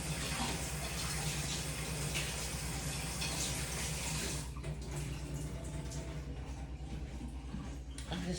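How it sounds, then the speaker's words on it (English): Water gushes steadily from a kitchen tap for a quick rinse, a continuous close rushing stream that shifts slightly in tone partway through, with no talking. "I just did a quick rinse."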